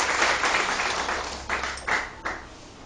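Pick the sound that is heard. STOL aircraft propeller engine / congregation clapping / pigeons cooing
congregation clapping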